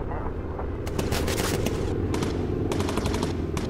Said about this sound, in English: Who's firing at me over there?